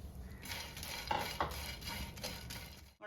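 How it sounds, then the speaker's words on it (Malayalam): Dried shrimp roast in a pan on low heat, giving a quiet, close, continuous rustle of stirring and light sizzling, with a couple of soft utensil scrapes against the pan. "നമുക്കിതിലേക്ക് നമ്മുടെ ഉണക്കച്ചെമ്മീൻ ഒന്ന് റോസ്റ്റ് ചെയ്തെടുക്കാം."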